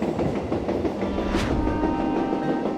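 A train runs through the Douro Valley with a steady rolling rumble and rhythmic clickety-clack of wheels on rail joints, close and continuous, with a brief brighter squeal midway.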